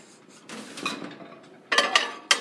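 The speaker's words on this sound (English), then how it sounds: "And now you put the food in the microwave." Food being placed into a microwave in the Cooking Mama video game, heard as a few short clinks and clatters of dishes, ending in bright sharp clicks near the close.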